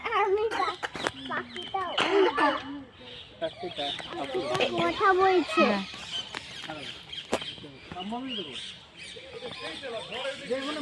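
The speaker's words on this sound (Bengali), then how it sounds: "ওই দেখ পাখিটা কথা বলছে" Chicken-like clucking and calling from birds nearby, repeated throughout at a moderate level, mixed with children and adults talking over it.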